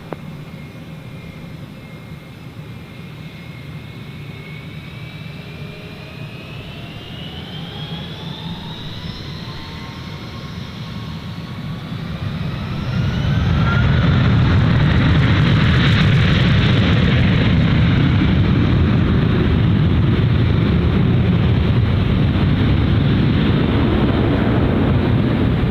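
A Jetstar jet airliner takes off at Gold Coast Airport, its engines whining and rising in pitch before spooling into a loud, broad roar of takeoff thrust that holds to the end.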